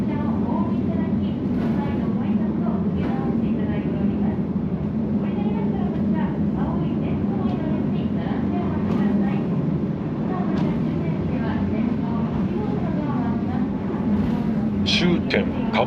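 A tourist trolley train rolling along the Mojiko Retro sightseeing line, a former freight line, a steady low rumble of wheels and carriage under continuous chatter from people on board, with a few brief higher squeaks near the end.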